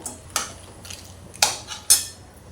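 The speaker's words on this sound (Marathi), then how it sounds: "आता छान परतून घेऊया या." Crab curry in a metal pan stirred with a spatula, four sharp clanks and scrapes against the pan at irregular intervals over a quiet low hum.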